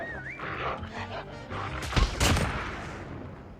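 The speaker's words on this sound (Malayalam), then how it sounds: "Friendly K9 unit incoming." A K9 attack dog in a COD Mobile battle royale gives short barks amid a brief burst of gunfire, moderately loud over game noise, with no voices.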